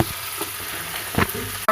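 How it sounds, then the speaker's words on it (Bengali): Onion paste and ginger-garlic paste frying in a pan, with a close, steady sizzle and hiss punctuated by a few brief spatters and taps over a short stretch. "এখন এর ভিতরে দিয়ে দেব কিছু পেঁয়াজ বাটা আর সামান্য আদা রসুন বাটা।"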